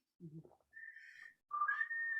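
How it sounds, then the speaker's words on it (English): A person whistles a few short, clear tones alone, starting low then rising to a sustained higher pitch, close and quiet. "I whistle out of the corner of my mouth"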